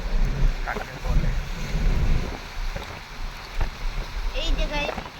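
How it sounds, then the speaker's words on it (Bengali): Sea waves wash against the Mumbai shoreline in a steady, windy roar with low rumbling surges, while people talk excitedly close by over the surf. "দেখ ঢেউ ওই দেখো কাঁপিয়ে দিচ্ছে"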